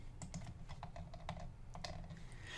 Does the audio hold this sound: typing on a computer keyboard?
yes